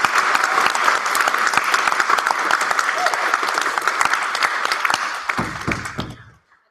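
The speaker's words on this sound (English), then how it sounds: "a round of applause for Uncle Wayla" Dense audience applause at a debate event fills the room, loud and sustained with many overlapping claps, thinning out and fading to silence over the final second.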